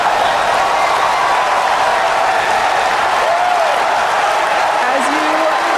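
Crowd cheering and clapping at Starship engine cutoff during Flight 9, a broad continuous roar from a gathering behind the commentators, loud and steady throughout with faint tonal sounds drifting over it.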